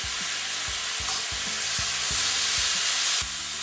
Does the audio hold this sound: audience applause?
no